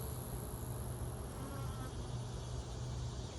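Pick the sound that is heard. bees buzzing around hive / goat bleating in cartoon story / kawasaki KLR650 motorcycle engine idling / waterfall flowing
bees buzzing around hive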